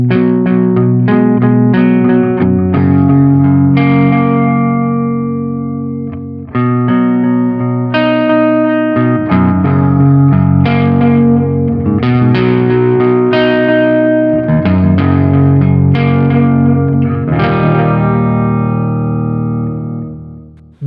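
Electric guitar played through a Sonicake Sonic Ambience pedal in analog delay mode, its darker, softer repeats trailing each note. Chords and single notes ring out loud and continuously, with no talking.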